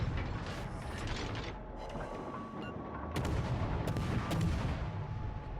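Heavy naval guns firing HE shells in World of Warships Legends, a rolling series of deep booms and mechanical clanks over constant battle rumble, growing louder toward the end.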